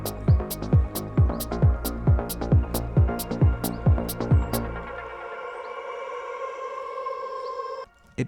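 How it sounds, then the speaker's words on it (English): A synth build-up made with an Ableton Live rack plays a series of regular pulsing hits with descending pitch sweeps, then gives way to a sustained tone washed in delay and reverb before a sudden cutoff. "It just adds a bit of delay and a bit of reverb."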